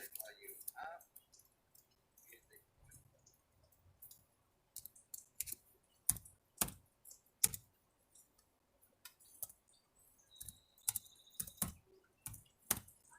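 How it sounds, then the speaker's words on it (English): Scattered keyboard clicks and taps come in irregular bursts at close range, sparse at first and growing busier, with faint voices in the background during a live gardening Q&A stream. "so I'm typing that in right now."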